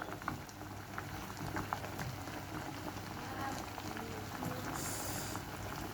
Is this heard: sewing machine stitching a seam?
no